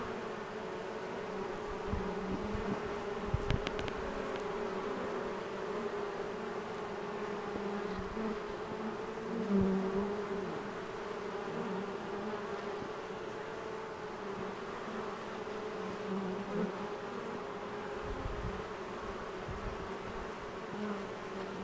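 A honey bee swarm being captured into a box outdoors in Red Bluff, its wings making a steady, dense buzzing drone that holds evenly throughout with a few faint bumps and knocks.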